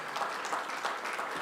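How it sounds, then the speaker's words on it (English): Sustained applause from a seated audience at the African Heritage Awards ceremony, a dense steady clapping that fills the whole span, fairly near and with no break. "an extended round of applause as he returns to his seat"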